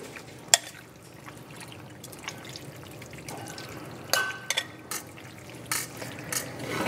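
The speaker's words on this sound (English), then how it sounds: "And you just want to mix that all together." Cajun pasta in a Parmesan cream sauce being stirred in a skillet, wet squelching strokes with sharp utensil clinks against the pan, close and fairly quiet over a low simmer.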